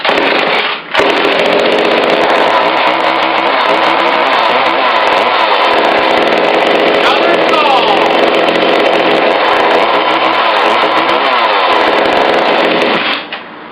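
Chainsaw fitted with a new 14-inch Oregon bar and chain fires up and runs at a loud, steady buzzing roar close by for over ten seconds, then cuts off.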